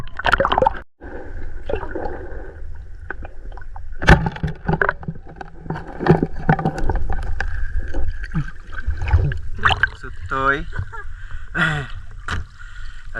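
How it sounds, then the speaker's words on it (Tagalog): A small wooden fishing boat (bangka) moves on water with sloshing, dripping and gurgling splashes, knocks and thumps against the hull, and occasional voices nearby. "Dito na kami mga idol sa bangka."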